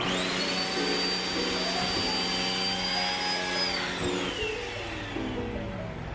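A new vacuum cleaner runs steadily and loudly, sucking up bits of tissue from a linoleum floor with a continuous high whine and a drifting motor tone, and no voices are heard.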